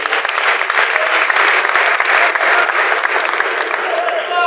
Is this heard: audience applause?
yes